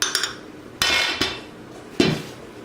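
Couscous being spooned into a bowl and onto a plate for herb-crusted mahi mahi, heard as a few sharp clinks and knocks of utensil against dish, close, spaced irregularly with quiet between.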